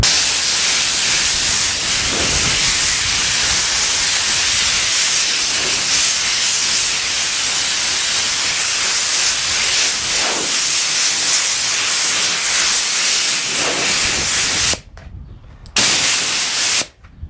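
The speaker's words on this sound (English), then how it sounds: "I'm going to spray it off and we're going to see what it looks like." A steady, loud hiss of spray washes off a newly made sign, continuing unbroken for a long stretch before cutting out briefly near the end and resuming.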